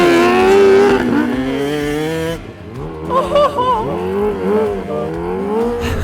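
Kawasaki H2R motorcycle on a motocross track, its engine revving loud and close with strong rising and falling harmonic tones across the whole stretch, dipping briefly midway before climbing again.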